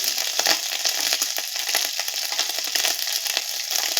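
Cumin powder and turmeric spitting in hot oil, a close crackling sizzle full of rapid irregular pops and spatters over a bright hiss, with no voices.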